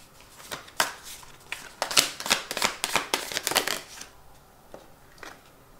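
Tarot cards being shuffled and drawn, a run of crisp, riffling paper flutters and snaps that cluster densely for about four seconds, then thin out to a few soft single flicks near the end.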